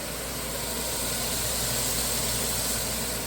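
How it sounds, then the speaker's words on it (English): A kitchen exhaust fan runs while meat chili with bacon, beef and sausage cooks in a pan, giving a steady, loud broadband whoosh with a low hum that holds unchanged throughout, with no talk. "Please excuse the fan noise."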